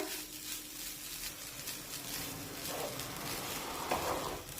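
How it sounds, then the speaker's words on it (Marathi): Grated fresh coconut roasts in a pan on low heat, giving a steady, soft sizzle with faint scraping as it is stirred. "हे बारीक करून घेतलेलं खोबरं टाकूया आणि हे खोबरं मंद छानपैकी परतून घेऊया"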